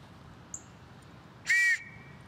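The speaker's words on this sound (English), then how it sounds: "I'm pretty sure it's a two-tone whistle" A two-tone whistle gives one short, bright blast, a clear steady tone that stops abruptly, with a faint tick just before it over low background hum.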